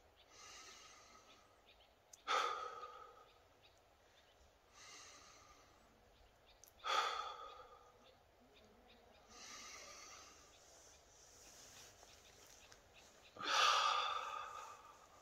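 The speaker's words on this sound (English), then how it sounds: "Breathe." Slow, deep breaths taken during a meditation break, with three or four loud airy exhalations spaced several seconds apart and quiet stillness between them.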